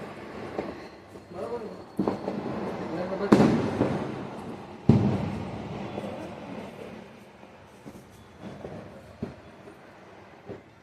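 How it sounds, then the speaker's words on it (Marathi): Firecrackers burst outside on Lakshmi Puja night during Diwali in scattered sharp cracks, a few louder bangs standing out against a busy background of voices and rumbling noise. "खूप फटाके वाजायला लागलेत बाहेर"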